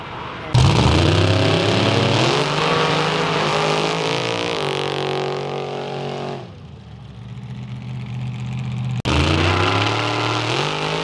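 A boosted drag race car engine at a sand dragway, running about 26 pounds of boost, screams up to 8,200 RPM in loud rising revs. It drops off sharply, then roars back up again, close and dominant.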